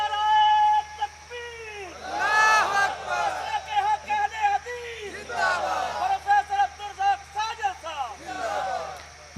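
A large crowd at a religious conference chanting slogans in loud call-and-response bursts, with voices rising and falling in waves and shouted phrases repeating over a hall full of people.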